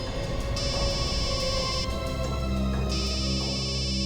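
A phone ringtone plays a looping electronic melody, loud and close, with no talking.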